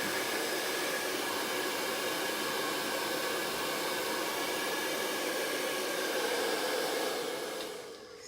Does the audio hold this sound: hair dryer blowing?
yes